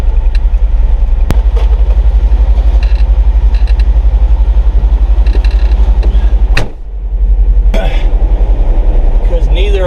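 A car engine runs steadily at a loud idle close by, with a low constant rumble, mechanical creaks and clunks over it and a brief dip near the end; people talk in the background.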